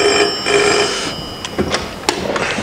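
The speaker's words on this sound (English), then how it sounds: "what happens when the phone rings at Devon Air Ambulance?" A telephone rings at the Devon Air Ambulance base in a steady, bright electronic trill that lasts about a second, followed by scattered clicks and knocks as the team reacts.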